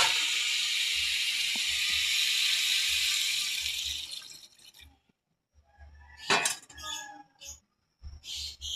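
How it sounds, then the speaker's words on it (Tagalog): Water is poured into a cooking pot of chicken tinola over a loud sizzle that fades out, followed by a short pause, then clinks of a utensil against the pot and a splashy pour. "Lagay ko na guys yung aking tubig."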